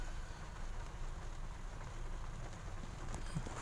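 Light rain falling outdoors, a steady soft hiss of drops with no breaks, fairly faint and alone without voices.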